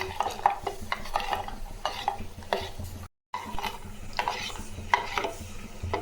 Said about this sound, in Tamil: கொதிக்கிற வரையும் கலக்கணும்